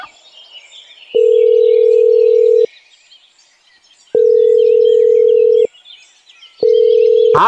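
Telephone call tone sounding while a number is dialed: three loud, steady electronic beeps, the first two long and the last shorter, separated by quiet gaps with faint background chirping.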